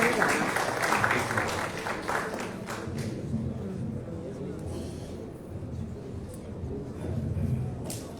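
Audience applause welcoming a minister of health at a formal ceremony, clapping that fades after a few seconds into crowd murmur and background noise, with a brief return of clapping near the end.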